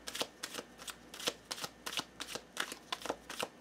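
Tarot cards being shuffled in quick, crisp bursts, roughly a dozen riffling snaps in an uneven rhythm, close and fairly quiet with no talking.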